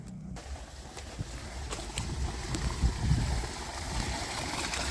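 Irrigation water rushes steadily from an opened valve on farmland, a continuous broadband gurgling flow with low rumbling surges, fairly close and with no talk.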